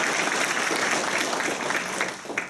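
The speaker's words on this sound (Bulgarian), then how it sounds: "аплодисменти" An audience at a school STEM presentation claps in a steady round of applause that thins and fades toward the end.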